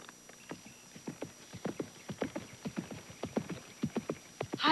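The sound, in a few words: horse galloping hooves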